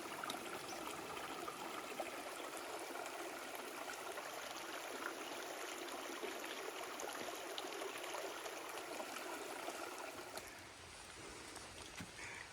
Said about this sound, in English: Back and forth across the river.